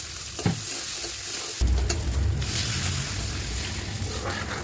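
Steady bubbling and sizzling from a pot of water boiling on the stove, with a brief clatter near the start and a low rumble underneath.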